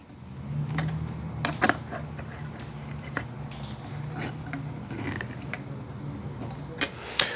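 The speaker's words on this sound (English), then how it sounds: "I'm going to tighten those down to secure camera." Screws being tightened down to mount a RED Raptor camera onto its plate, giving sparse small clicks and creaks close by over a low, steady room hum.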